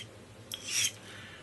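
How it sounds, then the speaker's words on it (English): A knife blade drawn along a broken ceramic sharpening rod, used for cutting leather, gives a single short rasping stroke, close and fairly quiet, with a brief scrape before it, over a low steady background. "I also have this ceramic rod here that actually broke on me, but I can still use it. And I use this to sharpen the blade."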